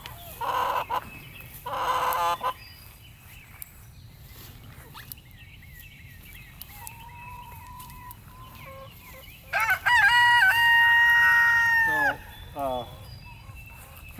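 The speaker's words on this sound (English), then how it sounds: "This flock has a rooster in it, which in the city you can't have, but I live out in the country, so the rooster is optional, which you'll hear here." A rooster in a backyard chicken flock on a country property crows twice, loud and near, with strained harmonic calls rising over a steady low hum, while hens cluck and chatter briefly between the crows.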